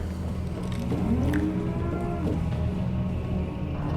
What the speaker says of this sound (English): Did we just get mooed at by a Brahmin?